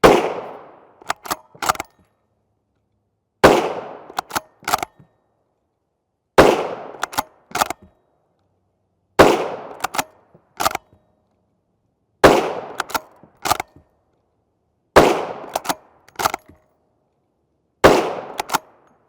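Rifle shots of supersonic 350 Legend 145gr FMJ Winchester rounds ring out as seven sharp, loud reports at even intervals, each followed by a few fainter clicks and a short fading echo.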